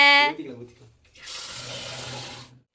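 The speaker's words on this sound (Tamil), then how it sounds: "ஏங்க இன்னும் கொஞ்சம் தண்ணி ஊற்றுங்க" A kitchen sink tap runs in a steady, fairly loud rush of water for over a second, after a brief spoken voice at the start.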